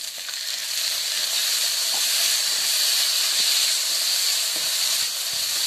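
Chopped tomatoes hitting a hot pan with capsicum for paneer bhurji, a loud continuous sizzle and steamy hiss with a few faint stirring clicks, steady and close, no voices.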